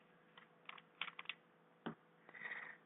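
A FlowerMate VaporMax-V vaporizer has its button pressed in a quick run of small, faint clicks, close to the microphone and otherwise quiet, with no talking.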